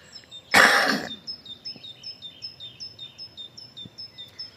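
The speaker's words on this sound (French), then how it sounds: "prendre le temps d'écouter les oiseaux" Small birds chirp in a quick, regular repeating series, moderately close, after a loud breathy cough-like burst at the start.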